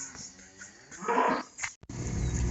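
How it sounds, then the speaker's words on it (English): A cow calf gives a single short, fairly faint moo outdoors on a damp farm, followed by a low rumbling background. "that last little moo over there, that sounds like Lena's kid taking after her father"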